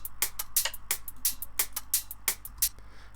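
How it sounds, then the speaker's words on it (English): Drum pattern from an electronic track: a steady run of sharp, bright hits, roughly evenly spaced, playing alone at moderate level over a low sustained hum. "So we'll dive into the drums first. The drums sound like this."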